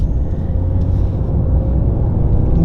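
Chiptuned Mercedes-AMG GT 43 engine running steadily on a dyno, a loud, continuous low rumble held close with no voices.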